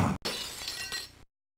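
A box shot and shattering in the Sega Mega-CD game Mad Dog McCree: one sharp breaking crash with a short clattering glassy tail, loud and close, then silence.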